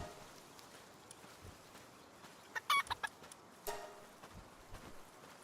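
A chicken in the video game Palworld, faint soft clucks over a low game background hum, with a few brief brighter clucking bursts near the middle, no talking.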